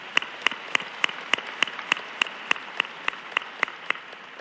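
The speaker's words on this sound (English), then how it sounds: "yes, an applause for that." Sharp, evenly spaced applause claps ring out at a steady rhythm, about three per second, moderately loud and close, at a celebration of life, with no voices.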